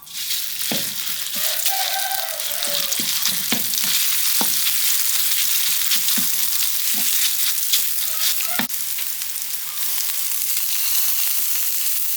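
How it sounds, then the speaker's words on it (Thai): Curry paste sizzles and fries steadily in hot pork lard, with scattered clicks and scrapes of a utensil stirring the pan throughout, close and loud with no voices. "จากนั้นจะมาเริ่ม คั่วพริกแกงนะครับผม ใส่น้ำมันนะครับ วันนี้ใช้น้ำมันหมูนะครับ"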